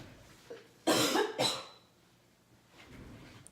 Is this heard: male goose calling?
no